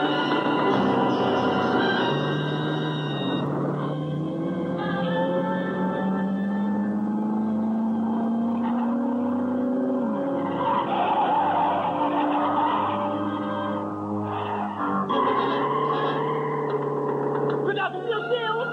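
A car drives and skids in a 1970s horror film scene near a canyon road, with a loud, continuous engine roar and sweeping tire squeal, dramatic music and a voice mixed in.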